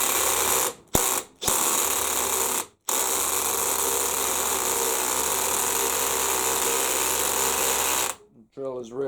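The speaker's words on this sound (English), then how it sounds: "the drill is really struggling, barely getting anywhere." Power drill in its top screwing mode straining to drive a screw, a steady high whine broken by a few brief stops, close and continuous before cutting out near the end, where a voice begins.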